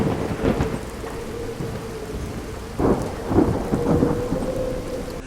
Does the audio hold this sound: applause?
no